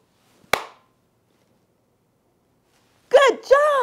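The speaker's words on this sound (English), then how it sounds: "Remember, I clap first, then you try." A single sharp hand clap rings out alone in a quiet room during a kids' lesson, followed by a pause and then a voice speaking.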